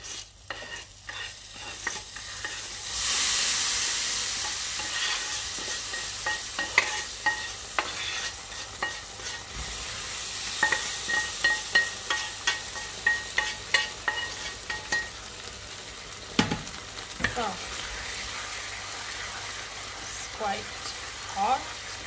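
Rice frying in a pan with tomatoes for risotto alla pizzaiola, stirred so a steady sizzle runs under repeated scraping and clattering strokes, close and fairly loud with no talk.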